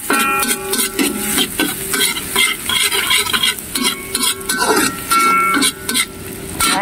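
Garlic fries in a pan for a spaghetti bolognese with butter prawns and mushrooms, giving a continuous close sizzle broken by frequent scraping and clinking of a utensil against the pan.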